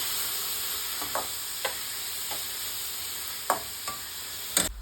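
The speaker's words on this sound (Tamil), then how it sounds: "நம்ம கட் பண்ணி வச்சுருந்த வெஜிடபிள்ஸ்லாம் சேர்த்துக்கலாம். சேர்த்துட்டு வதக்கிக்கோங்க." Cut vegetables with onion and garlic sauté quietly in a pan for lasagna, a soft continuous sizzle broken by a few light clicks and scrapes of stirring.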